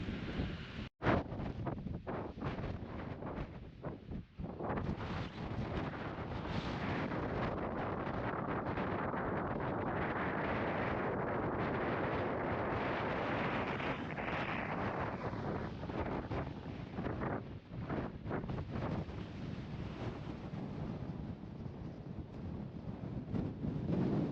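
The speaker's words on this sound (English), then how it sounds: "No voice on there as the wind was absolutely tremendous." Strong, relentless wind buffets the microphone on an exposed walk up Place Fell in the Lake District, a loud continuous roar with gusting surges and no voices.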